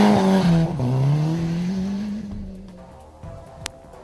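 A two-wheel-drive turbocharged Suzuki Swift rally car races past. Its engine note is loud at first, then falls in pitch and fades into the distance, with a brief sharp click near the end.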